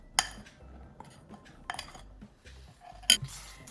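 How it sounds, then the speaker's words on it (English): A utensil clinks and taps against a bowl while salt and other ingredients are stirred into an egg mixture for a chocolate flan, making a few sharp isolated clicks with quiet gaps between them. "just mix it together."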